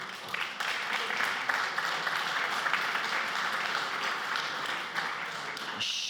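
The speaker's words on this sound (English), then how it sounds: "First of all, big applause for all of you." An audience at a chemistry panel discussion applauds, dense continuous clapping that holds steady for several seconds before easing slightly at the end, with a faint voice underneath.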